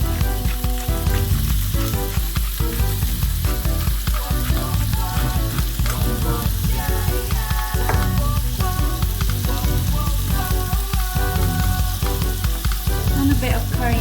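Onions frying in a pan with black pepper, a loud, steady close sizzle with crackling and occasional stirring throughout.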